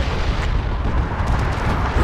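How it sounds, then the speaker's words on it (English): Dense rumbling explosions from a bombing run in the video game Dawn of War 2, a continuous loud barrage of blasts and crackling debris filling the whole stretch with no pauses. "Thunderhawks 3 and 4, follow with bombing run, purification spread."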